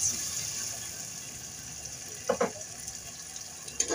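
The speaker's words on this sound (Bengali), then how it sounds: "তারপর আমি আরেকটু পানি অ্যাড করছি।" Water poured into a cooking pan of curry, a soft running splash with a couple of brief louder clinks near the end, close by over steady kitchen hiss.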